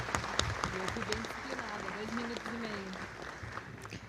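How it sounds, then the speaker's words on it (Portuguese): Applause rings out in an assembly hall during a political launch event in Porto Alegre, a steady moderate clatter of many hands, while a voice speaks through it at the same time. "Salve de palmas para o nosso ex-presidente Adão Vilaverde."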